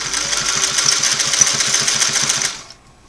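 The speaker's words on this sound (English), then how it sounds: "See if I can sew it a little straighter this time" A Singer 503A sewing machine runs a twin-needle straight stitch in a steady, loud, rhythmic whir close by, slowing and stopping just before the end.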